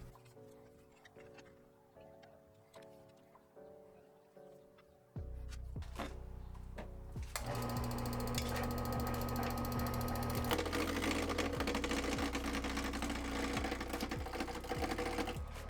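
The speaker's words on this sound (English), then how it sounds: "using gouges to round out your piece" Wood turning on a lathe, roughing a cocktail muddler blank round with gouges: a steady mechanical whir with rapid ticking at first, then louder, denser scraping and rumble as the gouge bites, continuous throughout with no talk.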